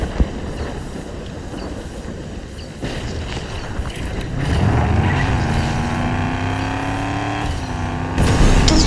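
A car's engine drones steadily in a video game, with the engine pitch rising and shifting as it speeds up, mixed with a busy rumbling background and no speech.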